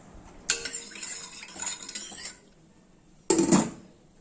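A pressure cooker lid being fitted and closed while cooking dal, with sharp metallic clanks and scraping, one burst early and another near the end, close and alone.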